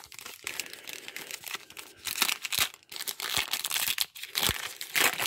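A foil pack of 2018 Panini Diamond Kings baseball cards being torn open, with crisp crinkling and ripping in quick irregular bursts, close and fairly quiet with no talk.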